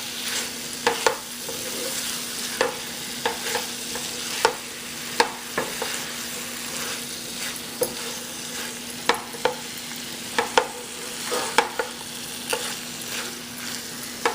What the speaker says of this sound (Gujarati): બસ આને ફાઇન રીતે આપણે હલાવી